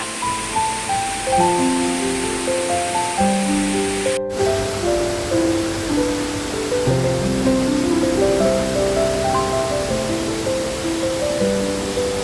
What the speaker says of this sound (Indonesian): air terjun Kandawudawuna menjulang megah, jatuh dari tebing tinggi dengan kekuatan dan keindahan